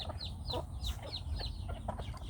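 A chicken on a farm clucks in a quick series of short, close calls over a low background hum, with several clucks in a little over two seconds.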